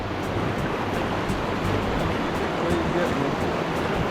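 Rushing whitewater of Mother-in-Law rapids on the Green River, Section A, at 1700 cfs while rafting, a dense continuous roar of churning water close by, with faint voices mixed in.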